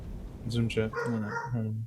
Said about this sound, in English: This dog's going ballistic.